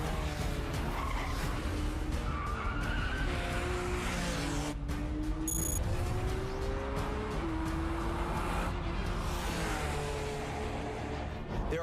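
A rear-engined Porsche sports car accelerates hard, its engine note climbing in steady sweeps through quick, seamless gear changes. The roar is loud and continuous and fills the whole stretch without pause.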